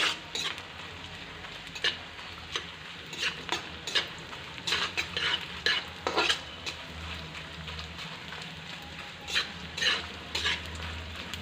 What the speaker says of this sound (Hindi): और इसे इस तरह से चलाते हुए अच्छे से फूलने देंगे गोंद को।